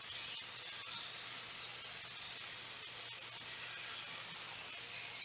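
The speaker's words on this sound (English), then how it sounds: "these are going to go into my hot skillet" Teriyaki chicken kebabs sizzling in a hot skillet, a constant hiss with light crackling pops throughout, close and steady, no talking.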